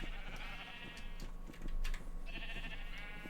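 Sheep in the video game Minecraft bleat repeatedly, a cluster of wavering nasal calls layered over a steady ambient drone, with no voices present.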